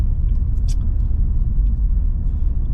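A car engine hums low and steady from inside the cabin while the car drives a test route at about 20 miles per hour, with the throttle coming back on after braking.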